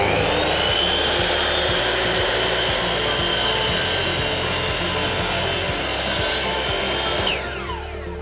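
A Bosch GCM 10MX professional miter saw cuts through timber at a 30-degree bevel, with a loud, close, sustained whine and rasp of the blade biting wood that winds down as the motor spins to a stop at the end.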